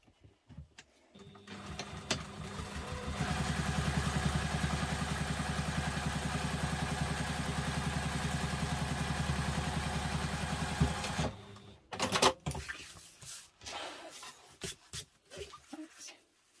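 A sewing machine runs steadily for about eight seconds, top stitching along the seam of an urban messenger diaper bag, close and fairly loud. Its even whir starts gradually, stops abruptly, and is followed by scattered handling clatter.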